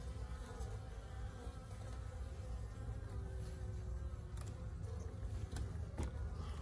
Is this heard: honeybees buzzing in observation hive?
yes